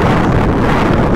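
Strong wind on Mount Everest, over 50 per hour, roars continuously and loudly, buffeting the microphone with a dense rumbling rush and no speech.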